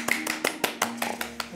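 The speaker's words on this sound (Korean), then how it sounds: "박수 한번." A small group on a Korean cooking show claps in about eight distinct, evenly spaced claps, close and bright, with a faint voice underneath.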